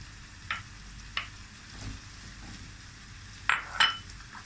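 Green peppers go into a hot pan with sautéed carrots and sizzle softly, while a utensil stirs and knocks against the pan in a few sharp, close clinks.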